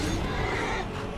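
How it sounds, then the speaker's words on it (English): A horse whinnies in the Skyrim video game, a single drawn-out neigh that fades out over about a second, fairly soft and a little distant. "I sincerely hope that's not my horse."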